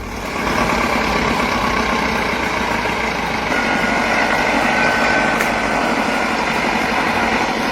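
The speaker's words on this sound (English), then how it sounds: "Engines roar, chains tighten, and the recovery becomes a fight between machines and unforgiving ground." Two tractor engines roar together while pulling a machine out of deep mud, a loud, steady, continuous rumble with a gritty mechanical drone that holds near full strength throughout.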